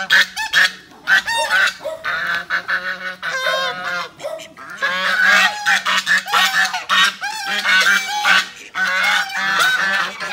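Several geese honk loudly and almost continuously at close range, with overlapping harsh calls from a group of fowl and no talk over them.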